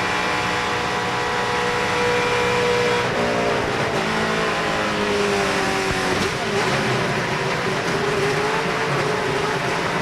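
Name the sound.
ARCA race cars crashing at Daytona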